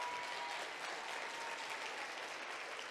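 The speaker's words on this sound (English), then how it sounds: "clap it up for that" Audience at a talk claps in a steady, even burst, faint and distant throughout the short stretch.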